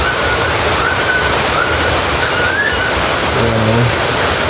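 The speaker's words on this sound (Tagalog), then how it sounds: "Biglang bumuhos ang ulan sa kalagitnaan ng tanghali." Sudden heavy midday downpour, a dense, steady roar of rain that holds evenly at full loudness throughout with no voices.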